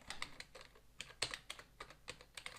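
Quick, uneven keystrokes on a computer keyboard click sharply and close up, typing code for a simple C++ hangman game with short pauses between bursts.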